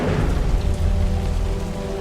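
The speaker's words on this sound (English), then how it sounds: "and there was a heavy rain" Heavy rain in a dramatized Bible reading, a steady dense roar of downpour with a deep rumbling undertone like distant thunder, loud and continuous with no voices.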